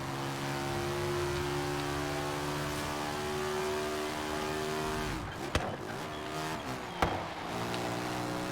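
A powerful car engine in Forza Horizon revs and drones steadily with rising harmonic tones, then shifts abruptly into shorter bursts with sharp clicks near the end, loud and close with no talking.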